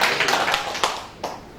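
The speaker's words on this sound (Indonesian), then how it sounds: "Yuk, beri tepuk tangan dulu buat Tuhan" A church congregation applauds in a sparse, uneven run of claps, heard fairly close and thinning out toward the end.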